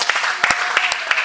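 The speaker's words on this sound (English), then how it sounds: "Shall we clap our hands to the Lord?" A church congregation claps hands in a steady, fairly loud rhythm, individual claps popping out above the dense wash of applause.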